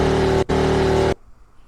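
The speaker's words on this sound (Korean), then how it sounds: "금방 이제 발전기 소리가 났는데" A generator mounted on the back of a Tesla running as a steady loud mechanical drone with a strong hum, briefly cutting out once before stopping abruptly into near silence.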